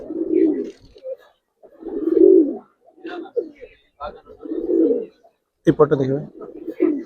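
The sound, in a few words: Jabra Baga pigeon calling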